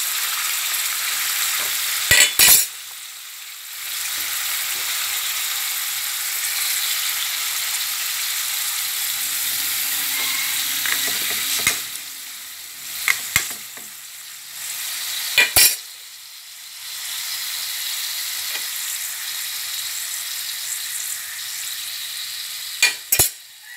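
Sun-dried pork neck frying in oil over low heat, a steady bright sizzle throughout with a few sharp clinks of a utensil against the pan.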